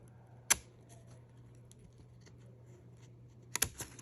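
Scissors trimming the edges of laminated pockets at a craft table: one sharp snip, a quiet pause, then a quick cluster of two or three snips, close and fairly soft.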